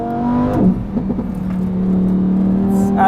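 Lamborghini Huracan EVO engine revving up loudly and close, a rising, whirring mechanical tone that climbs steadily after a brief burst of shouting.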